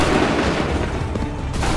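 Musket volley gunfire in Assassin's Creed 3, a dense, loud rumble of overlapping booming shots from a line of soldiers, sustained through the brief moment with no clear gaps.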